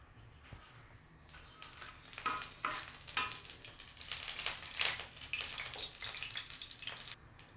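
Whole garam masala spices frying in hot mustard oil in a pan for a tawa kolija dish, a crackling sizzle that swells with bursts of stirring and spattering, close and without talk.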